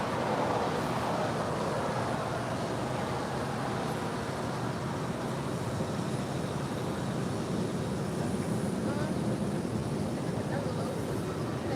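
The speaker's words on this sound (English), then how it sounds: "It's a 787-8 Dreamliner, now pushing back from the gates of Terminal 4 here on the south side." An American Airlines Boeing 787-8 Dreamliner pushes back from a Terminal 4 gate at LAX, heard as a steady, broad roar of idling jet engines and airport rumble, continuous and moderately loud, with talk faintly mixed in.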